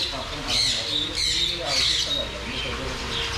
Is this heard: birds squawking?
yes